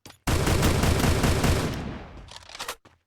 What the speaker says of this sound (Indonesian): Tembak terus dari abang Arab ini.